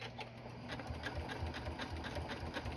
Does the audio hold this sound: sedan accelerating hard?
no